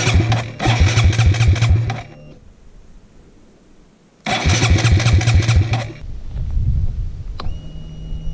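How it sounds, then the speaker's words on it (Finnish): A small Honda moped engine is cranked twice in loud sputtering bursts, then catches and settles into a buzzing idle. "Kaiken järjen mukaan tämä mopon pitäisi nyt lähteä käyntiin."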